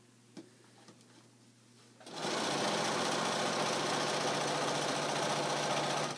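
After a few quiet handling sounds, a sewing machine starts up and runs at a steady, loud, fast whir, stitching a pillowcase seam with a quarter-inch presser foot, continuous to the end without talking.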